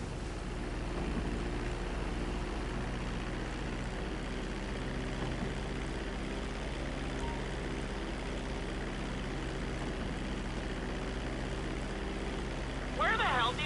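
Steady, dense aircraft engine drone of a plane taxiing on a runway in GTA 5, holding a constant low hum throughout, with a brief brighter burst near the end.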